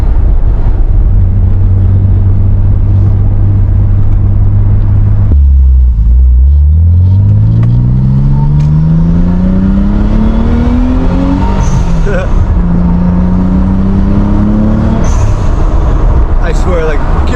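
Nissan Z sports car engine revving up under boost while driving on a California road, loud and close, its pitch climbing steadily through gears with brief drops between shifts over constant road rumble.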